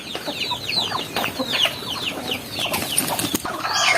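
Native backyard chickens cluck repeatedly in a steady, busy chatter, several birds close by with overlapping calls and no talking.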